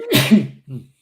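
A single close, sharp sneeze, a quick breathy burst followed by a brief softer tail.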